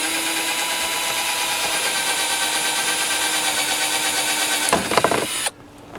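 A power drill bores a hole into motorcycle handlebars, a loud steady whine held for several seconds before a burst of grinding as the bit breaks through, then the motor cuts off abruptly.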